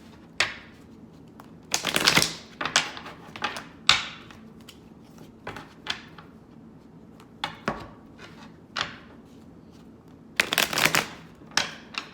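A deck of tarot cards is shuffled close by in bursts of riffling and flicking. Some bursts are louder clattering flurries, with quiet gaps between them and no talking.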